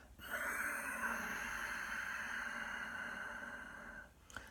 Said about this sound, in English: that soft, silky, sighing, whistling Ujjayi breath from the back of the throat